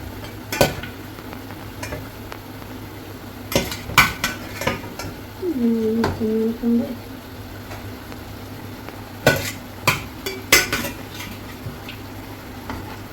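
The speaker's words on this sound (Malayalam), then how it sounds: "ഉപ്പൊക്കെ ഇട്ട് ചിക്കൻ കഷ്ണങ്ങൾ ചേർത്ത് വേവിക്കുക" Chicken pieces cooking in a pepper chicken curry, with sporadic sharp clinks and scrapes of a spoon against the pot over a low background simmer and a brief tonal squeak in the middle.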